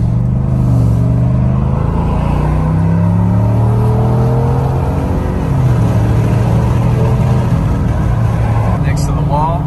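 Chevrolet Silverado Trail Boss pickup engine drones and rises as the truck accelerates up a mountain road, a loud, continuous rumble with shifting pitch throughout.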